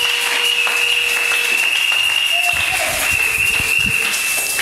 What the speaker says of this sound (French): Acclame un peu pour ton Père spirituel.